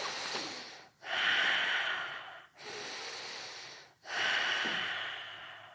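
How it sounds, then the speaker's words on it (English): Slow, deep yoga breaths, three long inhales and exhales in a steady rhythm, each breath a loud, close airy rush separated by brief quiet pauses. "Inhale, exhale."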